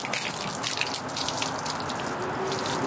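A steady, hissing flow of water runs without pause, close and even, like a hose left trickling.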